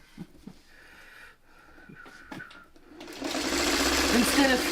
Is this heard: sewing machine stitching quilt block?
yes